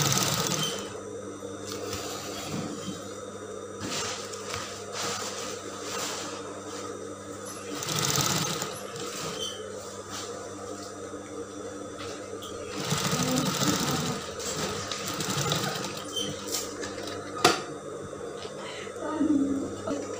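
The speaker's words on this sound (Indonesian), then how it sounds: "Ini bagian sampingnya juga kita jahit." A sewing machine stitches the side seam of a winged mermaid dress in steady bursts of close mechanical whirring, with short pauses and handling noise between runs and a voice talking over it.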